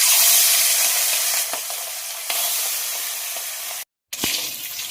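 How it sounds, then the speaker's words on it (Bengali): Hilsa fish pieces rubbed with turmeric and salt sizzle loudly in hot oil, a bright continuous crackling hiss that briefly cuts out before resuming. "তেল গরম হয়ে গেছে, ভাজার জন্য মাছগুলো ছেড়ে দেবো।"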